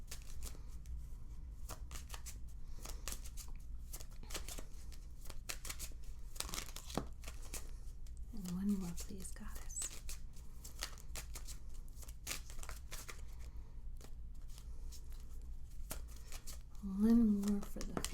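Hecate Crossroad oracle cards being shuffled, a steady run of soft riffling and card slaps, with a voice speaking briefly over it near the middle and end.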